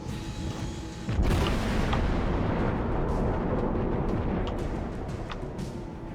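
Naval guns firing armor-piercing shells in the World of Warships naval battle game, one heavy booming salvo followed by a long rumbling roar, loud and continuous with no talk.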